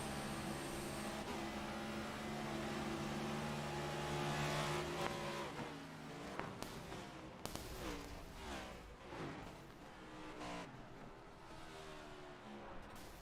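A NASCAR race car at full speed on the Monster Mile, heard from inside the cockpit: a loud, constant high-revving engine roar with rapid pitch shifts as it brakes and reaccelerates through the turns.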